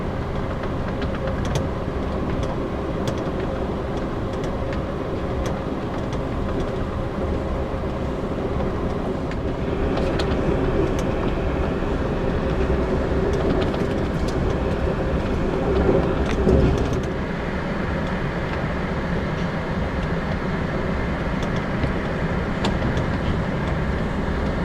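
An Amtrak Cardinal passenger train rumbles steadily along the rails while arriving at Staunton, Virginia, a continuous loud low roar with faint clanks and rattles throughout, no talking.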